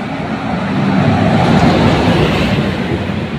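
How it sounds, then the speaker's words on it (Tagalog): An MRT 7 train pulls away from the station heading up onto the elevated track, a loud broadband rumble and roar that swells and holds steady, with no voices. "So yan yung release ng tren."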